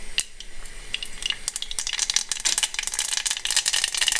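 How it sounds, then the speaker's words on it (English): Sesame seeds crackle and spit in hot oil with popped mustard seeds, a scattered run of sharp ticks and pops that thickens into busy sizzling, close and alone with no voices. "Once the mustard seeds have finished popping, go ahead and add the sesame seeds"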